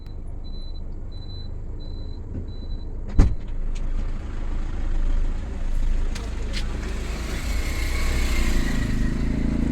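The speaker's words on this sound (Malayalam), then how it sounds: "നമ്മളുടെ ഫിത വണ്ടി ഓടിക്കാനായി വരികയാണ്" A car drives along a riverside road at Ponnani. Its engine hum and road rumble hold steady, with a sharp thump partway through and voices talking inside the cabin.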